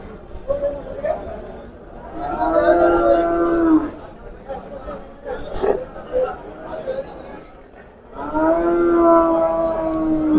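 A deep, drawn-out buffalo moo rises twice, close by, with people chattering around it in the background at a livestock market in Rampura Phul.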